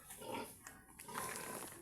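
Pig in a pen at a Filipino piggery, grunting and snorting close by in a steady stream of rough, noisy sound that continues through most of the short moment.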